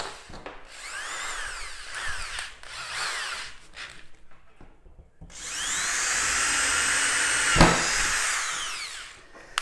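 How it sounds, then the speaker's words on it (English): A power drill bores holes in 1/2 inch PVC pipe, several short whining runs that rise and fall, then one longer sustained high drilling burst close to the microphone, with no voices. "once you've got your holes drilled"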